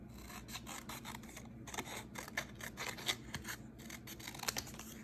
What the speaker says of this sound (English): I'm just going to use some scissors really quickly